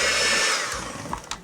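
An electric mixer whirs loudly and steadily while blending an egg into pumpkin cheesecake batter, then winds down into lighter scraping and tapping in the bowl.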